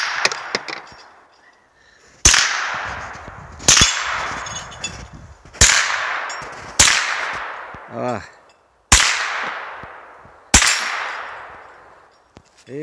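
Sharp gunshots fired one at a time at an irregular pace, about seven loud reports in all, each one cracking sharply and then ringing off into a fading echo, with no talk between the shots.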